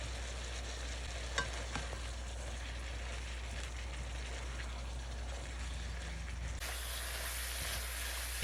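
Onions frying in a pan with garlic and Dungan pepper, with black pepper added: a steady soft sizzle and crackle with occasional stirring scrapes, fairly quiet throughout and free of talk.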